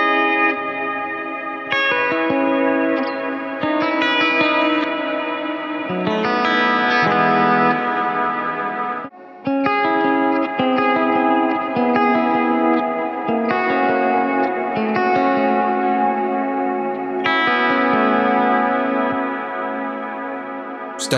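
Electric guitar through a large reverb with a long tail on a Quad Cortex worship preset, with ringing chords and arpeggiated notes blurring into a continuous shimmering wash, played alone with only a brief dip midway.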